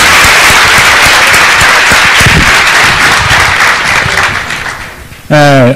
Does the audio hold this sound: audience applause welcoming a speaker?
yes